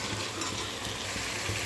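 Marinated mutton sautéed in a pan gives a steady, close sizzle and frying crackle, broad and even throughout, with no voices.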